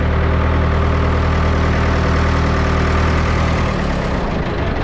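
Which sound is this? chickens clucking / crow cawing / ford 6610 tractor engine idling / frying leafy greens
ford 6610 tractor engine idling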